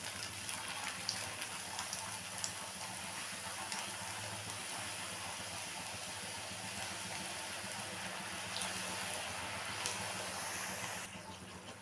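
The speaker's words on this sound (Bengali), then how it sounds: "এখন আমি লুচিগুলো ভাজবো।" Luchi fry in hot oil, a faint steady crackling sizzle like light rain, continuous and even throughout with no voices.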